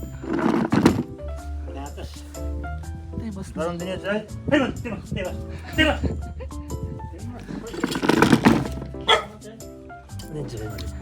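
A dog barks in a few loud bursts amid lively conversation nearby.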